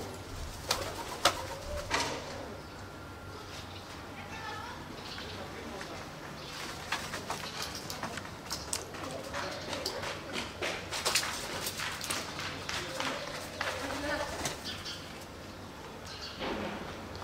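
Pigeons coo repeatedly beside a seaside apartment in Al Fatih, with occasional sharper rustling bursts that may be wingbeats and a steady outdoor background throughout.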